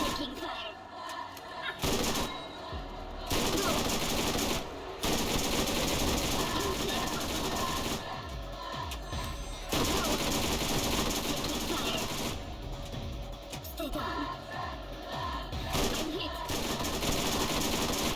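Rapid automatic gunfire from a Borderlands GOTY Enhanced PC playthrough, loud and dense, in sustained bursts broken by short gaps and mixed with other game noise.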